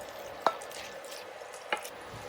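Halloumi goes into a pan of tomato and chilli sauce, a soft, even simmering sizzle broken by two distinct clinks of utensil on pan, close and fairly quiet, with no voices.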